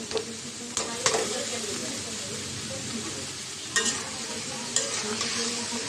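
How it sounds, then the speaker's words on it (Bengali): Green beans and potatoes stir-fried with spice paste in a pan give a steady low sizzle, broken by a few sharp scrapes and clanks of the spatula stirring. "মশলাটার সাথে সবজিটাও কষাই নেব।"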